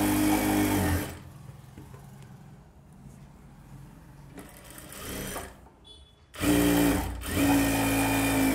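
A sewing machine stitching the band of a katori blouse runs in loud close bursts, first for about a second, then quieter intermittent whirring, then a strong renewed run at the end.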